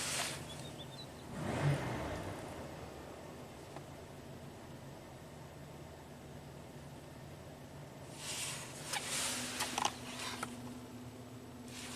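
A 1985 Oldsmobile engine with a suspected misfire and no-power fault runs at a steady idle, then its revs climb in two short, moderately loud bursts at the start and again near the end, with no talk.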